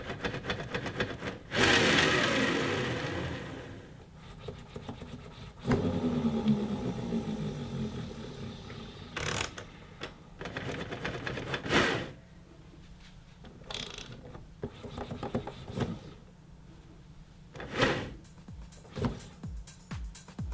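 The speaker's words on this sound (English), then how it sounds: "Take a listen to this new jog in comparison to the CDJ-2000 Nexus 2." Pioneer CDJ-3000 and CDJ-2000 Nexus 2 DJ player jog wheels being turned, a faint mechanical whirring and ratcheting with scattered soft clicks and knocks, close up and without speech.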